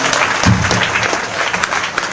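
Audience applause at a village gathering, steady dense clapping from a crowd filling the whole stretch, with a brief voice rising near the start.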